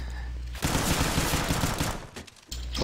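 Rapid automatic gunfire bursts from a Counter-Strike: Global Offensive match, loud and dense for about a second and a half, trailing off before another shot near the end.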